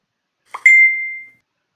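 A single clean notification ding rings out during a competitive esports match broadcast, a bright close chime with a short clink before it, decaying smoothly into silence.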